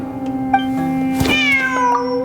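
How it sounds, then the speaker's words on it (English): A cat in the video game Genshin Impact gives a single clear, close meow, loud and unaccompanied by talk. "That's the cat again."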